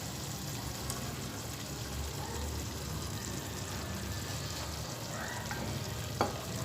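Yogurt goes into frying masala for Chicken Maharani curry and is stirred in a pan over a low flame, giving a steady soft sizzle with scraping stir strokes throughout and one brief clink near the end.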